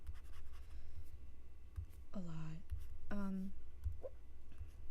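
Pencil moving across paper during sketching, a soft continuous scratching and scraping close by, broken by two brief voiced sounds.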